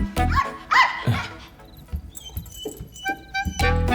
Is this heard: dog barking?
yes